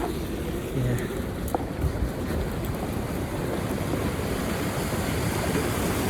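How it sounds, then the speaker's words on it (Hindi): Water pours with full force down a wooden channel to drive a turbine in a mountain village, a loud, steady, broadband rush that continues without a break, close up, with faint speech underneath. "इस पानी के फोर्स से जो ऊपर से इतना तेज़ी से पानी गिर रहा है"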